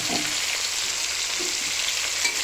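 Hilsa fish with a paste of mustard, green chilli and ginger sizzles in a pan, a steady close hiss with a few soft stirring scrapes.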